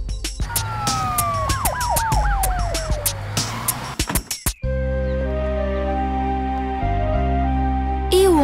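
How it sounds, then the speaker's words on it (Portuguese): A wailing ambulance siren in an animated children's story sweeps up and down loudly for about four seconds, then cuts off to a steady musical drone. "Deixe-me chamar uma ambulância para levá-lo ao hospital."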